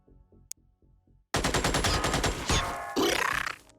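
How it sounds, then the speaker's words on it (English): Rapid automatic gunfire in the video game Xenonauts bursts out after a quiet stretch of soft tones, with dense rattling shots and impacts against the player's own vehicle, loud and close. "Put a couple bullets into my own vehicle by accident, but it resisted them"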